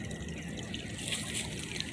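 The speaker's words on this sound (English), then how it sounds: "as you see, we got water up above, running water" Running water in a small spring-fed creek, a quiet, continuous trickle and burble from nearby with faint bright splashes and no one talking.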